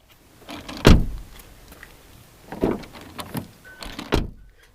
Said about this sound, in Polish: Przy każdym ruchu drzwiami mamy do czynienia z takim dźwiękiem plastikowego wysuwania się tego door edge protectora.